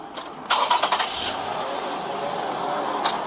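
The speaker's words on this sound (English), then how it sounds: "just want to turn the car on real fast to see, just to verify the headlight is still off" A car engine cranks and catches during a roadside police stop over a passenger-side headlight that is out. A sharp start bursts in about half a second in, then settles into a steady idle with a brief rise near the end.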